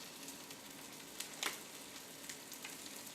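Crab cakes fry in a pan with a splash of olive oil, giving a faint, steady crackling sizzle with a few sharper pops, with no talk over it.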